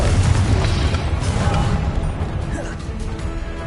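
Confringo explosive spell blast from the Hogwarts Legacy video game on PS5: a loud, sustained booming rumble with crackling bursts, dense low-end roar fading slightly over a few seconds.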